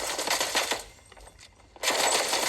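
Rapid bursts of automatic gunfire in the Fortnite video game, a dense rattling volley that pauses briefly with scattered shots, then resumes loudly.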